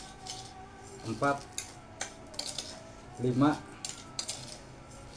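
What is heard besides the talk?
spooning sugar into carrot cake batter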